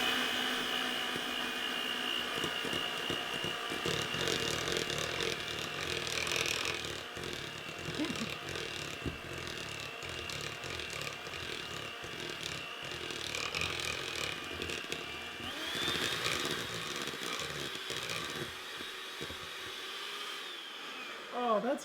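An electric mixer whirs steadily as it works salt into chocolate chip oatmeal cookie dough, its motor pitch wavering with the load, while a person talks over the noise.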